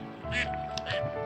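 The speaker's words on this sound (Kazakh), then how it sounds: "Үйрек балапанмен" A duck with ducklings gives a couple of short quacks close by, against a steady background hum.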